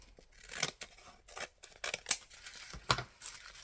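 Scissors snipping through glued paper packaging from a craft box, several crisp close cuts spaced irregularly with faint crinkling between, no talk.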